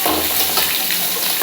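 Mixed vegetables sizzle and fry in a pan for a simple vegetarian curry, a steady close, loud crackling hiss with faint stirring and no voices.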